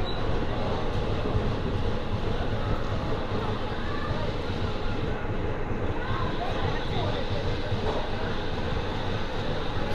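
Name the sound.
train 17219 arriving at Bhimavaram Town platform 2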